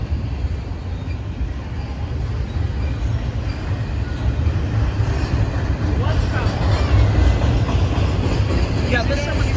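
Low rumbling rail noise builds steadily, with rattling wheels and faint squeals as an Amtrak train on a side track rolls past nearby at Fullerton.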